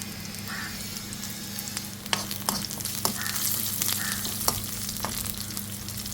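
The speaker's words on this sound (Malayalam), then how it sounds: "കടുക് വറുക്കുന്നത്" Mustard seeds fry in hot oil alongside shallots, curry leaves and chillies, making a close, constant sizzle punctuated by sharp popping crackles and occasional stirring.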